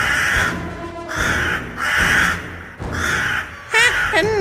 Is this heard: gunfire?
no